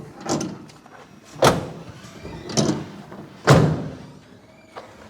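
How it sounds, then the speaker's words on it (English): Four loud thuds of a car hoist's doors being shut, spaced about a second apart, with a fainter knock at the end; close and sharp with quiet gaps between. "shut the doors"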